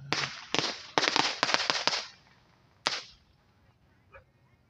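Fireworks and firecrackers go off in a backyard in the afternoon: a fast burst of loud cracking pops, a lone later bang, then a faint distant pop as the noise fades.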